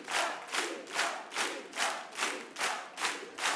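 Loud crowd applause with cheering and whoops at a tribute show for a singer, rhythmic surges of clapping swelling roughly every half second, no talking.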